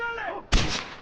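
A single sharp sniper shot cracks out in Far Cry 4 during an outpost capture, one loud sudden blast with a short decaying tail, heard after a brief voiced sound.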